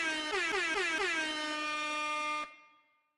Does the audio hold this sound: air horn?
yes